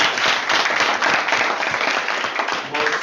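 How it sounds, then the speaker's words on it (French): Audience applause at a Toastmasters debate, a brief burst of dense, close clapping from a small crowd that holds steady for about three seconds. "Voilà, mais on applaudit pour lui."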